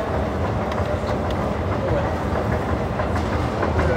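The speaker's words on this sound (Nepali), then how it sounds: "ट्रेन" A train runs steadily with continuous rumbling and rhythmic clickety-clack from the rail cars, loud and close throughout, with faint voices in the background.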